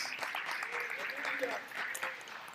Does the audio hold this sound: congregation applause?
yes